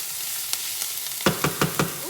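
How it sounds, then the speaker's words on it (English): Vegetables sauteing in a hot pan for an Italian-style meatloaf, a soft steady sizzle with a few sharp stirring clatters and pops, the last four close together and louder toward the end. "Yeah, it's sizzling because this is on."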